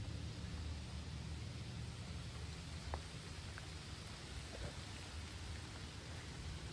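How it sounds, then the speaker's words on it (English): Steady rain falls outdoors, a soft continuous hiss that holds evenly, with a couple of faint taps and no talking. "And it's raining."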